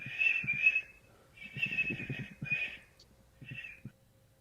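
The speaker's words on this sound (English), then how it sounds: "I can whistle." A person whistles a short tune in several bright, close phrases with brief gaps between them, loud and alone over faint low background noise.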